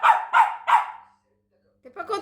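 A pet dog named Nounou indoors at home gives three sharp, close barks in quick succession; after a short pause, a person starts speaking.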